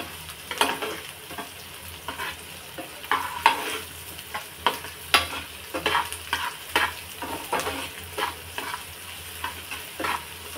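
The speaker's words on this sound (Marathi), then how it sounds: "गॅसची फ्लेम थोडी वाढवून आणि कांदा चांगला परतून घ्यायचा आहे." Onion sautéed with a little salt over a raised gas flame, continuous sizzling punctuated by frequent rhythmic scrapes and knocks of a spoon stirring in the pan, close up and without talk.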